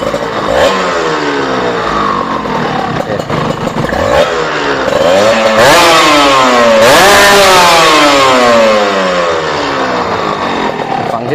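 A GPX Serpico 150 motorcycle engine revs up repeatedly, its loud buzzing pitch climbing and dropping in waves, close and harsh, with no speech.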